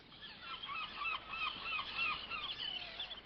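A flock of herring gulls in the Russian Arctic calling together, overlapping harsh cries and yelps forming a continuous loud chorus.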